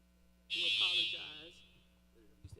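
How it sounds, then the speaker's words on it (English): A fire alarm panel gives one loud, harsh electronic buzz lasting about a second inside a seminar hall, with voices heard faintly underneath and afterward. "this one beep that you're hearing, they're on their way to fix the fire panel"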